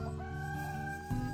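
Backyard chickens being offered food give a brief, fairly faint call with harmonic, crow-like tones. It shifts lower and fuller near the end.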